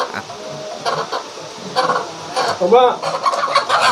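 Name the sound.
chicken clucking after being released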